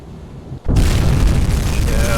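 A torpedo strikes a ship and explodes in the UBOAT submarine game, a sudden heavy blast that swells into a sustained roaring rumble.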